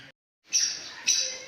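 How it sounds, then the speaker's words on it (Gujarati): A sparrow chick gives short, bright high chirps, two clear bursts close by after a brief silence, with no talk over them. "એ બેઠો ચકલીનો બચ્ચો"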